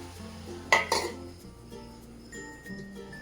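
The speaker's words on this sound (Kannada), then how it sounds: "ಮುಚ್ಚಳವನ್ನು ಮುಚ್ಚಿಟ್ಕೊಳ್ಳೋಣ." A lid set down on a pan of beetroot palya in a home kitchen: a sharp metallic clatter of lid against pan, with a second clink just after, then a quiet rattle and faint background hum.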